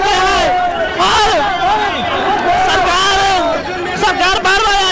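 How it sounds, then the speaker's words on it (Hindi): A large crowd of protesting students fills the air with loud, dense hubbub, shouting and chanting, with many voices overlapping up close throughout. "देख सकते हैं कितना भीड़ जमा है"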